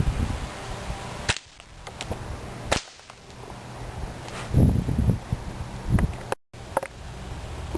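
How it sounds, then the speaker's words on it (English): Firecrackers fired from a slingshot burst against a wall and a cardboard box outdoors, several sharp, loud cracks at irregular intervals amid wind and rustling. "it'll be really cool when they explode on contact"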